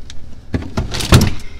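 A home refrigerator door is opened: a few close clicks and a soft seal release, followed by a fuller rustling thump. It sounds near and fairly loud.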